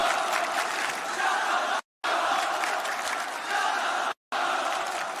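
Wrestling arena crowd cheering for Asuka, a steady mid-distance roar of many voices, broken by two brief silent gaps.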